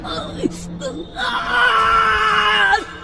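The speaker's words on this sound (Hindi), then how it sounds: "डॉक्टर हर्ष की दर्दनाक चीख पूरे मुर्दा घर में गूंज गई।" A man's agonised scream of pain rings out in a morgue after a bite to his hand, a long wailing cry rising and sustained for nearly two seconds, loud and close, preceded by short whimpering sounds.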